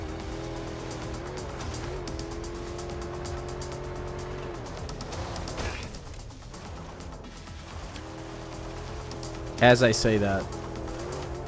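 A car driving in the video game MindsEye: a steady engine drone with shifting pitch runs throughout, briefly dipping midway and ending with a short burst of louder noise, while a person talks over it.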